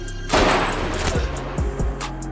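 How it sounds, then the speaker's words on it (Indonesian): A burst of loud gunfire from the action film The Villainess erupts, followed by several heavy thumps and booms in quick succession, with a dramatic soundtrack-like backdrop. "Suk-hye dibuat pingsan kembali oleh tembakan Kwon-suk."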